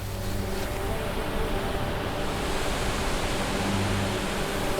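A waterfall gives a steady, dense rushing roar that holds at an even level throughout, with no breaks and no voices.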